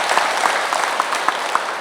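An audience at a Buddhist dharma talk in a Korean temple applauds, a brief, even patter of many hands clapping at a moderate distance, with no voices over it.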